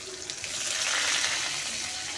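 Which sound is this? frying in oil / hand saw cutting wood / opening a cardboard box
frying in oil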